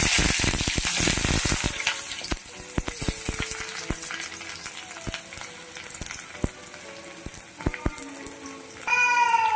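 Onions frying in hot oil for coconut chutney to serve with dosa, a crackling sizzle full of sharp pops that gradually thins out, while a cat meows briefly near the end.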